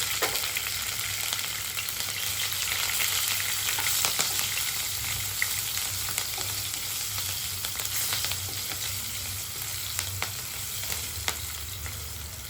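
Cumin, curry leaves, mustard seeds and green chillies fry in hot oil in a pan, a steady close crackling sizzle with scattered pops and no voices.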